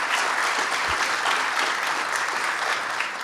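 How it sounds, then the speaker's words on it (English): A crowd applauds Assemblyman Michael Cusick at a governor's bill-signing event for heroin and opioid addiction legislation, with steady, dense clapping filling the whole stretch without letup. "Let's give him a round of applause."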